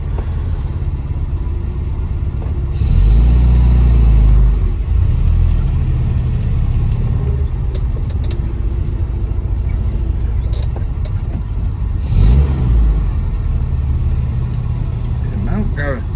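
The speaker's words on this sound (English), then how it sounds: "Nothing sounds like a Mini" A classic Mini's engine idles with a rumbling burble and is blipped into quick revs, two louder surges standing out against the steady idle, with someone speaking over it.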